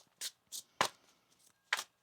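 A tarot card deck is shuffled in quick separate bursts, five short crisp riffling rustles close by and fairly quiet, with near silence between them.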